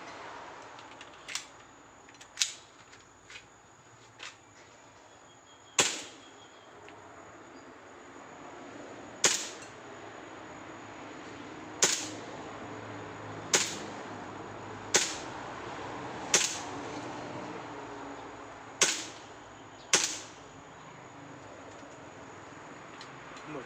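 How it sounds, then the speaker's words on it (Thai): A black M1911A1 airsoft BB pistol fires at a target: about a dozen sharp, separate snaps with uneven gaps, some louder shots standing out above a quiet room background, with no talk. "เดี๋ยวเราจะทำการไปยิงเป้ากันดีกว่านะครับ"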